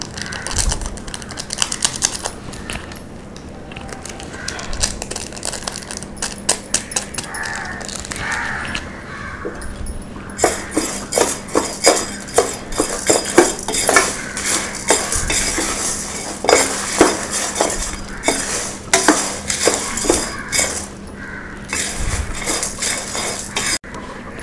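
Spices for village-style idli podi dry-roast in a pan, dense rapid scraping and clicking of a spoon against metal, stirring in bursts that grow busier toward the end, close and fairly loud with no talk.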